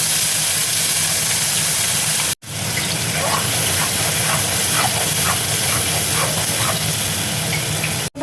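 Ground spice paste hitting hot oil for an egg curry, a loud, dense hiss and sizzle that fills the clip, cut briefly by one sharp dropout partway through.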